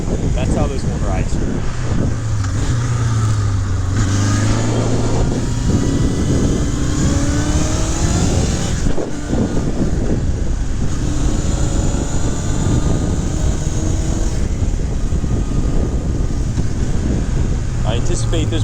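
A 1982 Honda CB750K motorcycle is ridden at steady speed, its inline-four engine droning continuously under heavy wind rush, with the engine note rising and falling through gear changes.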